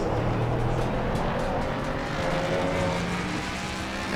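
Race car engines at Oulton Park in Assetto Corsa Competizione as a Honda overtakes a Mercedes, a steady loud engine drone with tonal whine and gear shifts, continuous with no pauses or talk.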